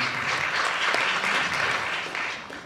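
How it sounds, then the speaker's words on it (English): A short burst of audience applause, steady clapping that fades slightly toward the end. "I'm not sure that applause is appropriate."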